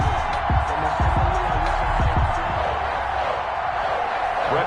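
A dense stadium crowd roars and murmurs continuously at an NFL game between the Houston Texans and the New England Patriots in an EA Sports football video game, with a few sharp thuds early on.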